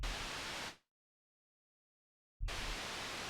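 Synthesizer white noise passed through a low pass filter, a loud dull rushing hiss that cuts off to total silence for over a second and a half before returning at full level.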